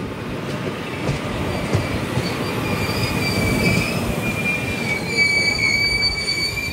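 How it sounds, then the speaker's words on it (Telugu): A goods train runs on the line with loud metallic wheel squeal over a continuous rolling rumble, the high screech rising again toward the end, with no talking. "అటు రూట్లోంచి చూడండి ఒక గూడ్స్ ట్రైన్ అయితే వస్తుంది."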